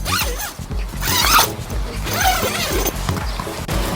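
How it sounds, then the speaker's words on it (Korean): A car-camping sleeping bag zipper is pulled open in one long run of rasping, ratcheting strokes, close and loud, with a brief faint voice nearby. "자, 그리고 지퍼를 쭉 한번 열어보면요."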